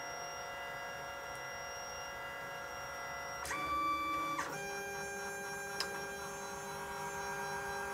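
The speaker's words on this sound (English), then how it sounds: "So I get distracted watching the printer, as we all do." A MatterControl Touch 3D printer prints a part with a steady, quiet whirring and tonal motor whine. A louder stepper-motor tone rises for about a second and there is a brief click, with no one speaking.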